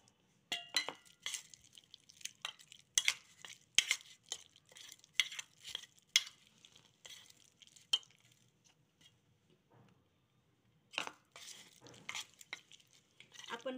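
Spoon clinking and scraping in a pot as boiled okra is stirred with gram flour batter, bursts of rhythmic metallic taps in clusters, a pause, then more stirring, close and clear without speech.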